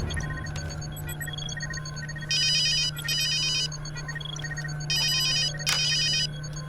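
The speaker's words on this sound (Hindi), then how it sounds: "उस नए प्लेयर रिहाल खान को फोन लगाओ" A telephone rings in a Hindi Bollywood action movie after a call is placed, sounding as two bursts of electronic trilling ringtone over a steady low hum, with no one speaking.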